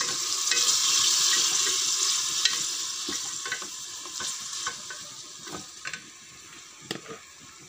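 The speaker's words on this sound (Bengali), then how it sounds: "মশলা সব কষানোর জন্য" Spices stirred and fried in a pan during a home cooking session, giving a steady hiss of sizzling with scraping stir strokes that soften gradually; no one speaks.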